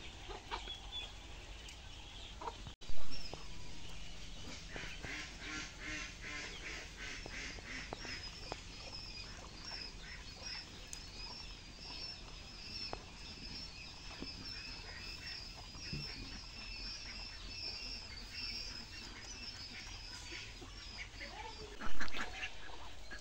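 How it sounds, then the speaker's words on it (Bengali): Domestic ducks on a goat farm quack repeatedly in a steady, fairly close chatter over a farmyard background, with a few louder bursts. "তখন এই হাঁসগুলো কিন্তু মারাত্মক সমস্যা করে।"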